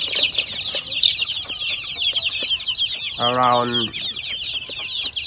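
Many chicks and chickens at a chicken farm keep up a dense, continuous high peeping chorus, with one louder nearby cluck or call partway through.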